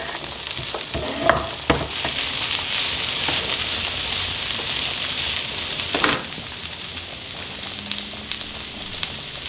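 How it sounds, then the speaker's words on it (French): Mushrooms fry in a pan over lowered heat, giving a steady close sizzle with occasional clicks and scraping stirs, and no one speaks. "là je rajoute les champignons en baissant un petit peu le feu"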